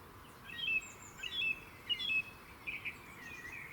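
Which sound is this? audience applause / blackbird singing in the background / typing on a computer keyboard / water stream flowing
blackbird singing in the background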